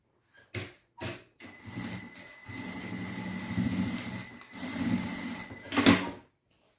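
Sewing machine stitching a fabric lining onto the main body of a small zippered cosmetic bag, running in a few short bursts with brief pauses and one louder burst near the end, close and fairly quiet.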